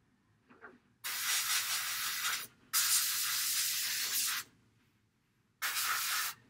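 Rust-colored paint sprayed onto a model drone in three close, loud hissing bursts with short quiet gaps between them.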